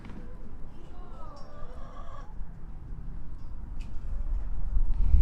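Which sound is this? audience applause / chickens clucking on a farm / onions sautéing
chickens clucking on a farm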